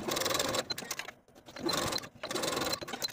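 A sewing machine stitches a seam on a dress band in two bursts of rapid mechanical whirring, separated by a brief quiet pause, close and fairly loud.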